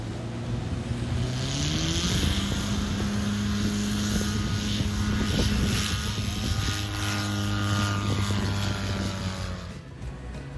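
A small propeller aircraft takes off from a runway in calm, windless conditions. The engine drones loudly and steadily and its pitch slowly rises and shifts as the plane accelerates, with a constant wind rush heard throughout.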